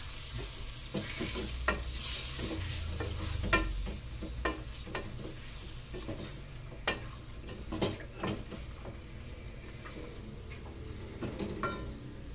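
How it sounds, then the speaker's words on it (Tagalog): Ingredients for tinola, with garlic and onion, sautéing in a little cooking oil: a steady low sizzle with intermittent utensil scrapes and clicks against the pan, close and fairly quiet, with no talking. "Alisa ko lang sa kunting mantika."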